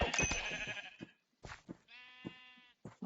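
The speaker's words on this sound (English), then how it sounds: "If all these sheeps are hanging around here, why not just slaughter them?" Sheep in the Minecraft-based game Hungry World bleat in a few close, distinct cries, one long wavering bleat standing out among shorter ones, with no talking.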